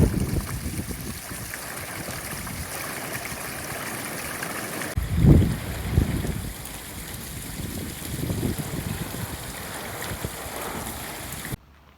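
Steady rushing water flowing over a creek's small cascades, a continuous broadband wash with a brief louder surge midway, then an abrupt stop.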